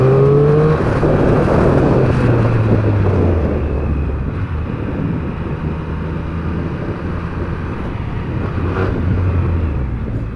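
A 2021 Triumph Speed Triple 1200 RS motorcycle engine climbs in pitch as the bike accelerates hard, its loud steady roar mixed with strong wind rush throughout.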